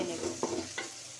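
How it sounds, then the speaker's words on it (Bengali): Onion and spices frying in soybean oil in a pan, a steady close sizzle broken by two short stirring scrapes, with no talking. "কিছুক্ষণ ভেজে নেব।"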